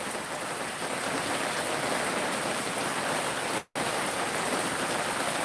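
Steady, heavy rain falls in a dense, even hiss that fills the scene without letup, broken only by a momentary cut in the sound.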